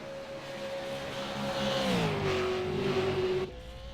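Race car engine in the iRacing sim at Bathurst revs with a steady high whine, climbing, dropping through a gear change and then easing off, loud and close with no talk.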